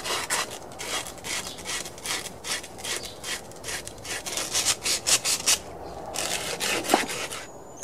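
Fine-grit sandpaper rubbing the engine valve shaft of a rusted McLane reel mower during restoration, heard as close, rhythmic back-and-forth scraping strokes in quick bursts.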